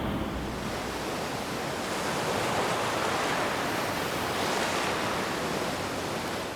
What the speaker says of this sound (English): You listen to the waves on the beautiful beach of Tel Aviv